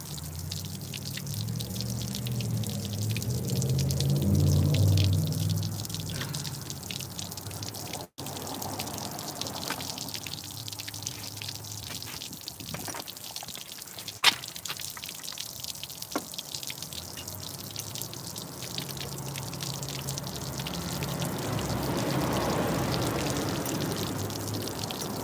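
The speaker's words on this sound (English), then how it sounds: "while there's water running" Running water pours and drips steadily for the whole stretch, a continuous splashing wash with a couple of brief knocks.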